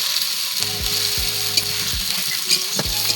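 Onions frying in a pan over a cooking fire, a bright continuous sizzle broken by rhythmic scraping strokes of a spatula stirring the pan, close and clear with no speech.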